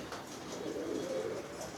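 Iraqi sky-blue pigeons coo softly in a low, steady murmur, faint and continuous under a light background hiss.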